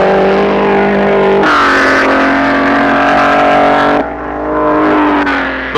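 Vintage Alfa Romeo and Maserati race cars at full throttle, a loud close engine roar with shifting pitch, a gear-change-like jump and a brief dip before surging again.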